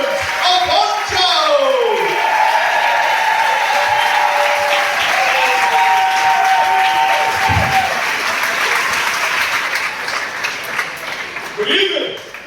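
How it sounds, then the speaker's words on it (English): A large theater audience clapping and cheering as a comedian is welcomed to the stage. Dense, loud applause swells over several seconds and fades toward the end, with a voice over it. "Start to clap. Start to cheer."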